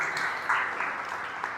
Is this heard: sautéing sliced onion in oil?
no